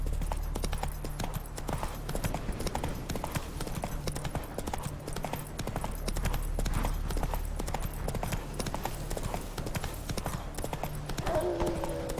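Geralt's horse Roach gallops in The Witcher 3: Wild Hunt with steady, rapid hoof clip-clops throughout and a brief whinny near the end, over a low constant rumble.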